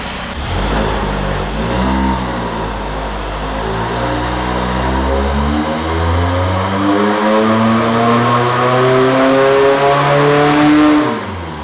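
A car engine revs hard on a dyno during a distributor test with a 009 distributor, its loud note climbing steadily in pitch through a long pull before cutting off abruptly near the end.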